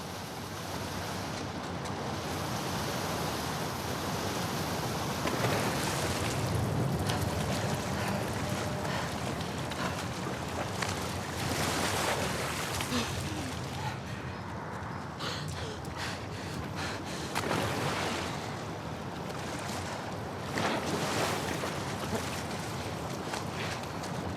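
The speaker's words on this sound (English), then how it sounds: "the player was faced with a fast-flowing torrent of water they couldn't cross" Fast-flowing torrent of sewer water in The Last of Us Part 2, a steady loud rushing roar with continuous broadband churn throughout, no voices.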